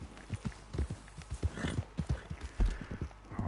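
Hoofbeats of a ridden horse in a video game, a quick irregular clip-clop of soft, close thuds at a running gait, fairly quiet and with no voices over it.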